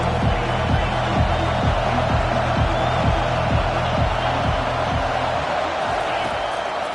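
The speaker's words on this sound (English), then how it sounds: "Decibels rising as the crowd gets behind this defense on third down." A football stadium crowd at USC vs Tennessee roars steadily as a dense, loud wall of cheering, with a rhythmic pattern of rapid stomping or chanting running throughout.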